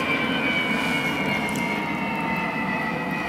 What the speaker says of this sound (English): The one jet they have landing at that airport, he flies over right now.